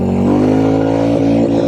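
A Royal Enfield Classic 350 motorcycle's engine holds a steady, loud, close thrum while its rear wheel spins in sand on a winter ride, with no talk.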